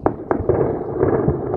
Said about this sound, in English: The sound of gunfire in the streets of the capital, Khartoum